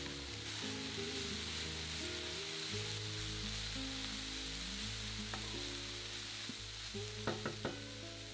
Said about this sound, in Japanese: 具に火が通って食べられるようになるまで炒めます。